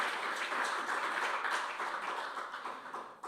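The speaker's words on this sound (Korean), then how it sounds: "여러분 뜨거운 감사의 박수 한번 보내주십시오" An audience at a National Assembly regional balanced development forum launch ceremony gives steady, fairly distant applause that fades slightly toward the end.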